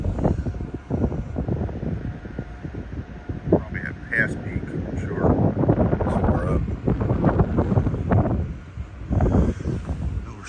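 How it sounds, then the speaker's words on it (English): Wind blows outdoors on a cool autumn morning near a waterfront channel, buffeting the microphone with rough, gusty rumble throughout, while a voice speaks intermittently over it. "It's going to be windy."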